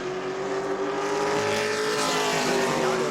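A Pro Late Model race car on a qualifying lap at New Smyrna gives a steady, loud engine drone that holds a sustained tone and builds slightly as it runs, with no speech over it.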